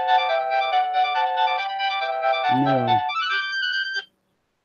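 A phone ringtone for an incoming call plays loudly and continuously as a bright, melodic repeating tone pattern, with a brief low voice cutting in near the end before it stops abruptly.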